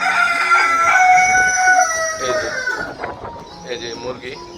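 A rooster crows loudly and close by among farm chickens, followed by scattered clucking from the flock.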